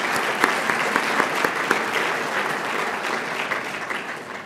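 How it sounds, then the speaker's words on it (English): Banquet guests clap in a round of applause, a dense, even patter of many hands with a few sharper claps standing out, loud and close with no talk over it. "I hope that you'll give them a round of applause"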